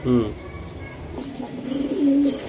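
Tumbler pigeon (digbaj breed) cooing close by, a few soft rolling coos with a longer low coo near the end, over light background noise.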